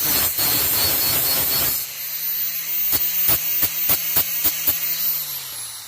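Hand-held grinder sharpening a lawnmower blade outdoors: a loud abrasive hissing grind that cuts off, then the motor spinning down as a string of sharp metallic taps rings out alone.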